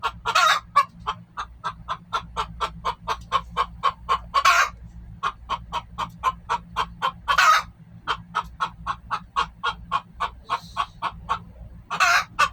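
Hens in a backyard coop built from an RV, laying eggs, give a steady run of close, rhythmic clucks, broken every few seconds by louder drawn-out squawks.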